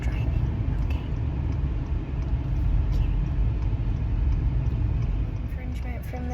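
A car is driven with a constant low engine and road rumble filling the cabin, steady throughout, while a voice talks quietly over it.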